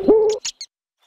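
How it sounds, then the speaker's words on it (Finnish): An owl hooting in a children's cartoon: a single short tonal hoot followed by two quick brighter chirps, close and loud, then silence. "Hop hop pöllö."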